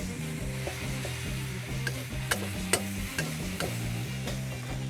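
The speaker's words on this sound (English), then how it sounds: "You give that a good mix." Char kway teow noodles sizzle in a hot pan as pork scratchings, bean sprouts and chives are stirred through, with regular scraping and tossing strikes over a constant frying hiss, close and moderately loud.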